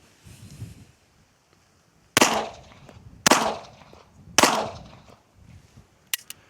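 Three loud, sharp gunshots from a suppressed firearm picked up by a hat-mounted microphone, spaced about a second apart, followed by a fainter brief crack near the end, with quiet background between shots.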